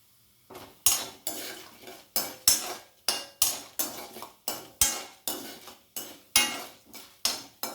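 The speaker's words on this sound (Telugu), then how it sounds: "చూసారు కదా, ఇలా పోపు వేగనివ్వాలి." A spoon stirring tempering (popu) in a frying pan gives repeated crisp metal clanks and scrapes in an even rhythm, close and clear, with no voices over it.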